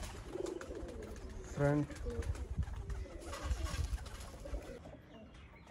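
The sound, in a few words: red-eyed breeder pigeons cooing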